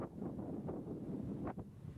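Wind gusts buffet and rumble steadily, low and breathy, with a couple of brief swells near the end.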